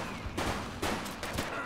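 Gunfire erupts during a bank robbery in the twin-stick police video game The Precinct, with several bursts of shots close together over a steady background.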